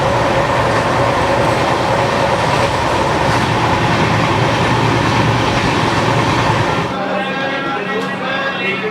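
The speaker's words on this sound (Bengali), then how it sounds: "এখন আমাদের ট্রেন পৌঁছে গেল বারেলি জংশন" Howrah to Haridwar Kumbha Express passenger train rolling on the rails, a loud steady rumble with rhythmic wheel clatter that drops to a lower, quieter hum near the end as it slows.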